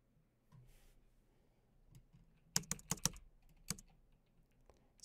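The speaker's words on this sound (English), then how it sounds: "It's not typing what I'm typing." Quiet room tone gives way to a brief flurry of loud, rapid computer keyboard key clicks in the middle, followed by a few scattered single taps, with no voices, while a video game is played.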